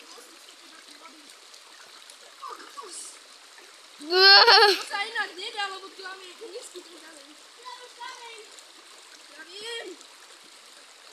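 A shallow stream flows steadily over low stones, with a continuous close wash and a brief louder splash near the middle, while people talk over it.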